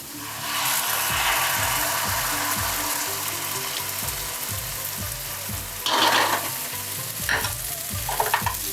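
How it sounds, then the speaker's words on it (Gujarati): Coriander and onion gravy is stirred into Afghani paneer in a hot pan, with a soft sizzle underneath rhythmic scraping strokes of a spoon and a few sharper knocks near the end. "એને હવે આપણે સારી રીતે મિક્સ કરી લઈશું"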